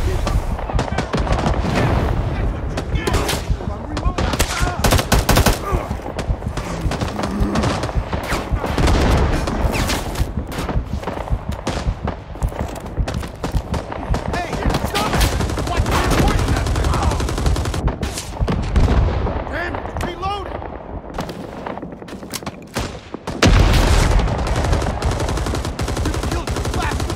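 Sustained machine gun fire in the Vietnam-era shooter Rising Storm 2, dense rattling bursts continuing almost without pause and loud throughout, with brief shouted voices mixed in and a heavy thump near the end.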